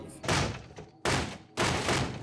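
Three heavy knocks on a door, spaced about half a second apart, loud and booming with a hollow resonance.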